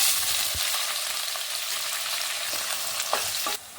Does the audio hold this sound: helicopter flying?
no